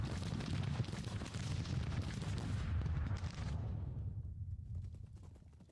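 Rolling gunfire and artillery rumble from a Grand Tactician: The Civil War battle at Manassas, a dense, continuous low roar of massed shots that gradually thins toward the end.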